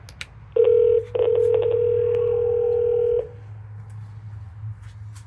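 A home telephone on a FreePBX phone system rings, two clear electronic ring bursts, a short one then a longer one lasting about two seconds, loud and close over a low background hum with no talk.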